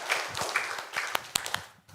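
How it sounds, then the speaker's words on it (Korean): Scattered clapping from a church congregation, light and uneven, with a few sharper individual claps standing out before it tails off. "하나님께 영광의 박수 올려드리겠습니다."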